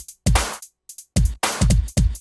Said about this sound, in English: if I just play 16th notes all the way through, it's going to sound like this.